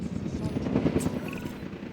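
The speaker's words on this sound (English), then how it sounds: "get the helicopter" A helicopter in a dinosaur park video game gives a steady whirring, buzzing drone that holds at moderate loudness for the whole stretch, with no speech over it.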